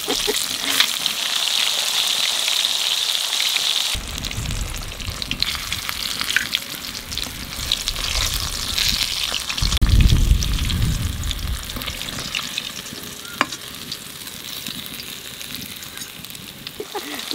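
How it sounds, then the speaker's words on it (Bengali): Fish fries in plenty of oil, a steady crackling sizzle that swells louder midway, with faint background chatter from people nearby. "মাছে তো তেল গলিতে একটু মাছ ডুবে যাচ্ছে"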